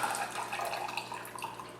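Water poured out of the mechanical cartridge of a Fluval G Series canister filter, a steady close splashing trickle with small drips, continuous and fairly quiet with no talk.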